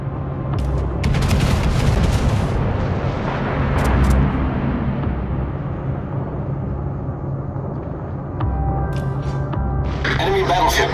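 Naval gunfire in the World of Warships game, heavy booming salvos rolling over a constant low engine and sea rumble, with a voice speaking in the background throughout.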